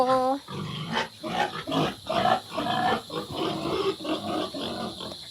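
Pigs grunt and oink in short repeated bursts close by on a farm, rough snorts rising and falling in an uneven rhythm, with a brief tonal squeal at the start.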